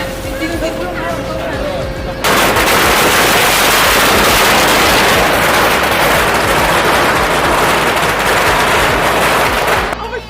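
A dense, continuous crackle of firecrackers bursting in rapid succession at a Chinese wedding, loud and close, running for several seconds after a quieter opening.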